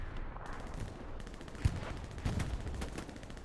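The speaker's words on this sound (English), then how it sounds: "Taking some hip fire from the MG from Tony." Machine gun fire in the Hell Let Loose World War II shooter on the Utah Beach map: bursts of rapid shots at moderate distance, with a sharper crack and a heavier burst standing out over steady battlefield noise.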